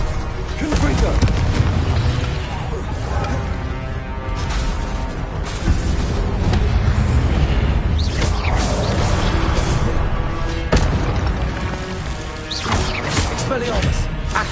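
Repeated Confringo spell blasts in Hogwarts Legacy, booming explosions and crashes landing one after another amid busy combat noise, loud and close, with a voice shouting over the fight.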